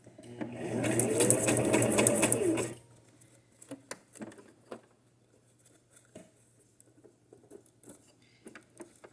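A sewing machine stitches patriotic crepe paper ruffles in one steady, fairly loud whirring burst of about three seconds, then stops, leaving soft taps and handling noises over a low hum.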